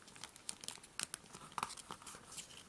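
Paper being folded by hand for an origami monster-hands model, making soft, close crinkles and crisp rustles with small irregular snaps and creases, heard alone and fairly quiet.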